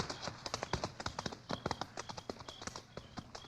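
Rapid, irregular clip-clop of horse hooves on a hard surface, close and fairly loud, with no talking.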